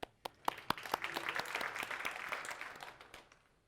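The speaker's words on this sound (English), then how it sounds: "Round of applause for the camera guy" Audience applause at a programming conference talk, beginning with a few sharp separate claps that quickly build into steady, moderately distant clapping from a seated crowd, then thin out and fade near the end.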